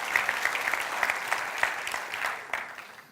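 A church congregation claps together in a room, sustained applause with scattered sharper claps standing out, loud and steady before easing slightly toward the end.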